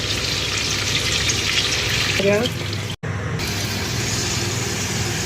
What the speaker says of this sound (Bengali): মাছগুলো সব ভাজা হয়ে গেছে, এদিকে আলুটাও ভাজতে দিয়ে দিচ্ছি আমি